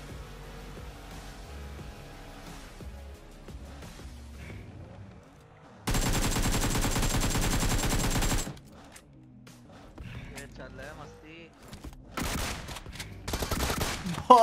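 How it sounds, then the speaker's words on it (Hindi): Bursts of shotgun and rifle fire in the BGMI battle royale game ring out, with sporadic single shots and a dense sustained volley in the middle, then further rapid shots near the end, with no talk. "भाई ये शॉटगन है"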